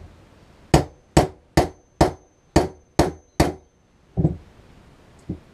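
Hammer taps on a socket driving a part into an EBR Master bike fork during reassembly: seven sharp, evenly spaced metallic knocks, then a few softer, duller taps, close and alone.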